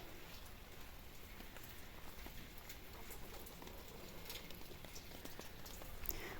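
Rain patters softly and steadily over a garden, a faint continuous hiss with scattered drops, and no voices.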